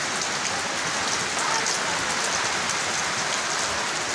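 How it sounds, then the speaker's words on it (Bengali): Heavy rain pours down steadily on a morning in Assam, a dense, even hiss of drops striking surfaces up close, constant and unbroken with no voices. "সকাল থেকে বৃষ্টি দিয়ে ফেলাইছে"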